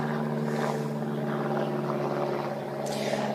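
A Jetstar aircraft, the flight from Auckland, comes in to land at Christchurch Airport, its steady engine roar droning at a distance, with a brighter hiss swelling near the end; no one speaks.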